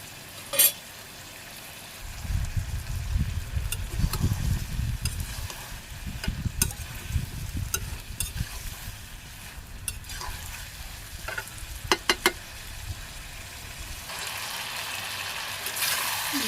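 Vegetable curry masala being sautéed in a pan in a Bangladeshi village kitchen, loud scraping and stirring strokes over a frying sizzle, with a few sharp clinks, close up and without speech.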